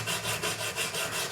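A jeweler's saw cuts through a sterling silver cuff bracelet with quick, even back-and-forth strokes, a raspy scraping that pulses in a steady rhythm, close and alone.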